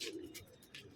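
Pigeons cooing in a loft, soft repeated coos with a few brief chirpy calls close by, steady and unaccompanied by talk.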